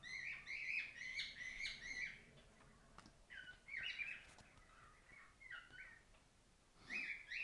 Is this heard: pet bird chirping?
yes